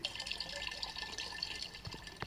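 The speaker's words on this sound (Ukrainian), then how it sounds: "водичку наливаємо" Water poured in the survival video game Raft, set on a raft at sea: a faint, steady trickling fill lasting a couple of seconds, with soft splashes and nothing else heard alongside.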